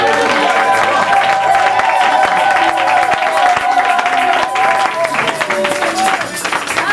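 A church congregation at a Sunday service applauds and cheers in a dense, continuous roar of clapping and raised voices, with tonal voices or music running underneath throughout.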